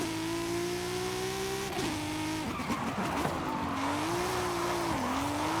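A race car in Forza Horizon screeches and skids into a tire wall, engine droning with shifting pitch, tires squealing and a scuffing impact midway before the revs climb again.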